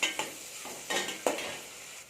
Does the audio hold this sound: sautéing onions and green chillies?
yes